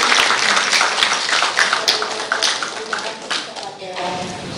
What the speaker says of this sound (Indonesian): Memberikan tepuk tangan untuk Prof.